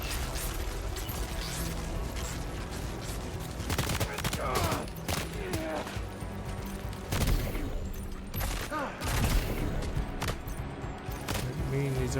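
Non-lethal shotgun fire during combat in the video game Death Stranding 2, with several sharp bursts and crashes scattered across a dense, busy mix of in-game noise and speech.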